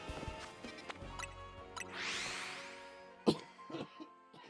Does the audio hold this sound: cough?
yes